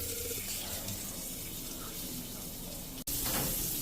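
Shower water runs as a steady, even hiss that fills the whole clip. Near the end there is a sudden brief break, and then the spray carries on.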